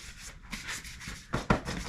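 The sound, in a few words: sanding a wooden axe handle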